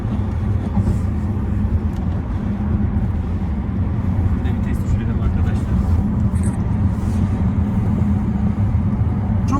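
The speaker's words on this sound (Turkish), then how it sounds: "Bir vites düşürdük şöyle." An Audi A5 1.8 TFSI coupe heard from inside the cabin as it shifts down a gear, its engine a steady, close, low drone that holds evenly throughout.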